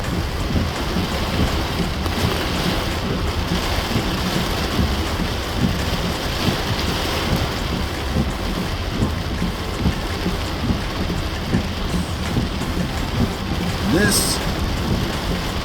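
A heavy January rainstorm in Monrovia, Liberia: dense, loud rain pours steadily and hammers on surfaces close by for the whole stretch, with low rumbling beneath it and a brief word spoken near the end.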